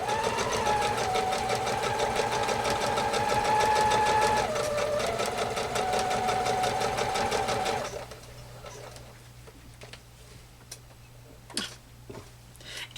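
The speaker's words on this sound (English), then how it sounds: "we are just going to keep on sewing" A sewing machine stitching a pumpkin placemat runs in a steady, rapid mechanical whir for about eight seconds, then stops, leaving a quieter room with a few scattered clicks and handling sounds.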